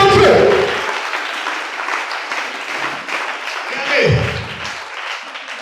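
A church congregation acclaiming Jesus breaks into loud applause and cheering that starts strong, then settles into a steady wash of clapping and voices that swells again near the end.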